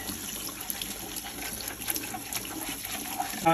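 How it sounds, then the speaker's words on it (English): Warm water runs steadily from a sink tap and splashes over a spa filter, a constant close hiss and trickle with no talking. "just plain old warm water out of the sink"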